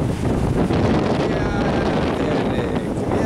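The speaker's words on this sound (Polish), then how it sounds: "Wiatryk, wiatryk." Strong wind buffets the microphone on an empty beach at Trzęsacz on the Baltic coast, a loud continuous roar and rumble with the sea faintly underneath.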